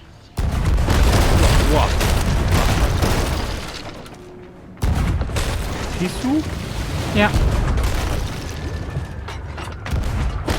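Ship cannons in the pirate game Sea of Thieves fire in heavy booming bursts with crashing impacts, filling most of the stretch, briefly dropping away and then resuming, while players talk over them.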